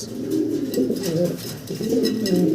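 A big black Pomeranian pouter pigeon, a male circling as it calls with a hen nearby, gives a continuous run of deep, rolling coos, close and steady throughout.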